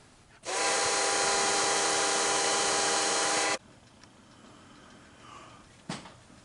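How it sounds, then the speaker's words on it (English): A drill bores a hole through a metal part in a machine shop, a loud, steady whirring burst lasting about three seconds, then quiet handling noises and a single knock. "I just want to drill this hole through"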